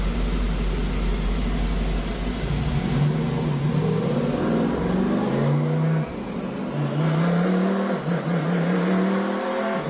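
A C8 Corvette on a dyno, its engine controlled by a MoTeC setup with TCM transmission control, revs and climbs through rising, jumpy pulls, loud and close, with no talk over it.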